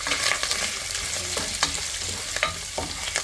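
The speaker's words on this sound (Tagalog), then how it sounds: "nagluluto tayo na ginataang sitaw with pork belly" String beans, lima beans and winged beans cooking with pork belly in coconut milk, stirred in a pan with a steady close sizzle and scraping stir strokes throughout, no voices.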